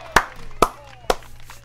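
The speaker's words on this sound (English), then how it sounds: "Let's clap it up for Friday." Three sharp hand claps spaced evenly about half a second apart, close and fairly loud, over a low steady hum in a talk-show studio.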